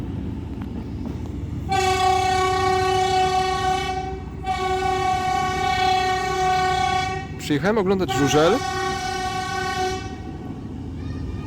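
A train sounds its loud, sustained horn in long blasts as it passes close by, with a voice speaking briefly over the noise partway through.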